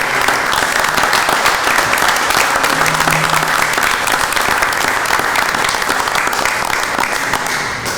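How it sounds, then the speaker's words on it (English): Loud, continuous applause from an audience at a city council meeting, a dense wash of clapping that holds steady throughout and tails off slightly at the end. "The applause sounds great in this venue."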